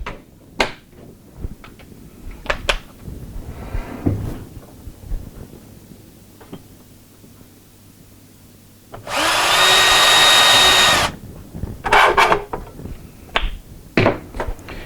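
Power drill boring a hole in the wood of a drawer, one loud steady whirring burst of about two seconds, with scattered knocks and handling clatter of wood before and after.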